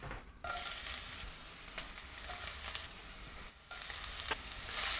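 Onions browning in olive oil in a hot skillet give a steady, close sizzle, broken by two brief dips and some stirring scrapes, with no talking.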